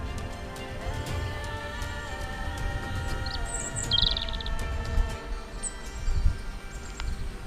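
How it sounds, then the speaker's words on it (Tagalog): Birds chirp in scattered short calls near Jaybanga Falls in Lobo, Batangas, over a steady low rush of water and wind, the calls fairly faint against the ambient roar. "Ang ganda ng tunog ng ano, ng mga ibon."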